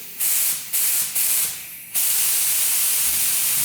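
A paint spray gun hissing as its trigger is pulled, with three short bursts of air followed by one long continuous spray, close and loud against a quiet background.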